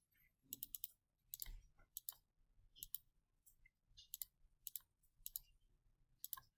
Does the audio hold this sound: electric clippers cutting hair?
no